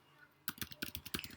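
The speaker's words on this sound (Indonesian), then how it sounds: "Kemudian kita ngetik lagi deh," Keys clatter on a computer keyboard after a brief quiet moment, a quick irregular run of crisp close taps for about a second, with no voices.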